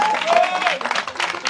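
A crowd at a political rally applauds a candidate, with a steady wash of clapping that carries on under a voice speaking over a loudspeaker throughout.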